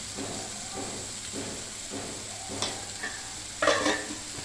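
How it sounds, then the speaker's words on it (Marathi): Continuous sizzling of tomatoes frying in oil with salt and turmeric for sambar, with periodic scraping strokes of stirring and a few louder spatters near the end. "टमाटर पण तेलामध्ये चांगल्यापैकी फ्राय करून घ्यायचं आपल्याला"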